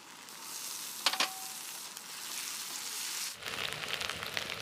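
Ginger and garlic paste hitting hot oil in a pan after fried onions, a continuous close sizzle with a brief sharp spatter, then a rougher, louder frying texture.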